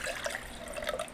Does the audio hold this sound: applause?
no